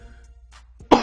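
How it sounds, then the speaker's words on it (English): One sharp, close cough bursts out loudly at the end after near silence. "please forgive all the coughs and sniffles and whatnot"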